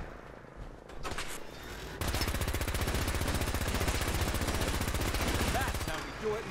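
Sustained automatic gunfire in the video game Fallout 4, a dense rapid burst that starts abruptly and runs for about four seconds before cutting off, preceded by a few scattered sounds and followed by quieter game noise.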